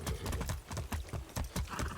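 Horse hooves in the video game Far Cry 6 clip-clop in a steady, rapid rhythm, loud and close throughout.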